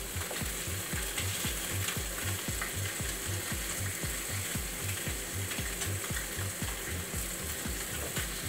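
Sea bass sizzles as it fries in a pan, a steady close crackling hiss with a regular rhythmic clatter running underneath, no talking.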